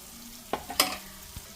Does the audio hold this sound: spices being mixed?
yes